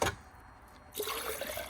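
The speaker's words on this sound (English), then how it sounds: "I'm going to actually give it a real quick wash with water." Water rinses over rust-stained porcelain after a cleaning treatment, starting quietly, then swelling into a steady, close splashing flow for the last second.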